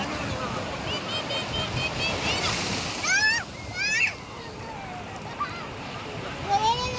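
Sea water washing ashore at a Mangalore beach, a steady broadband rush of surf that runs under children's voices and shouts throughout.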